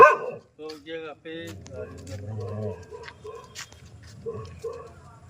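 A dog barks several times in quick bursts, fairly near, mixed with people talking nearby, at night as a black cobra approaches a doorway.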